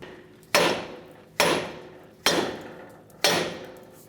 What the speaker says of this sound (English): as we hammer the knuckle here to break the stud free